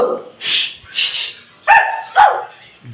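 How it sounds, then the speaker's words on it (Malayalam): Several short Minecraft dog barks and yips come in quick succession, close and fairly loud, with a slightly synthetic game-like quality. "ഇവിടുത്തെ നായ്ക്കളാണ്"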